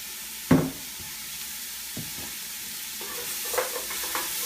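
Food browning in California extra virgin olive oil in a pan gives a steady soft sizzle, broken by a few stirring clatters and scrapes near the start and again toward the end.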